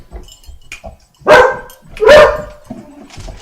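Two loud, close dog barks ring out in quick succession, separated by a short pause, with quieter shuffling and faint yips around them, from dogs at the ACC animal shelter in Manhattan, New York.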